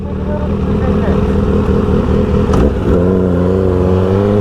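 A motorcycle engine revving as the throttle opens, a loud close rising growl that climbs and settles into a steady higher drone, with a brief clatter midway.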